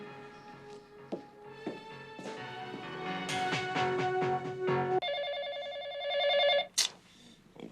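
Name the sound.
telephone ringing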